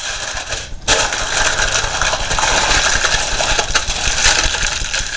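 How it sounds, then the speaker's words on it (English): Tin foil crinkles and rustles close up as it is handled to cover ramekins, a bright crackling texture that runs throughout with no talk. "The next job is some tin foil."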